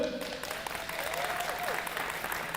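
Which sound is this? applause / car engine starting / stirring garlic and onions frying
applause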